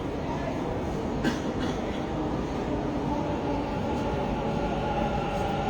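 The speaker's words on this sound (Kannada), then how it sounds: "ಏನೋ ಟ್ರೈನ್ ಬರೋ ಶಬ್ದ ಕೇಳ್ತಾ ಇದೆ" A train rumbles past continuously and loudly, a dense steady roar of wheels and carriages with occasional faint squeaks, nearby and sustained, near Kengeri.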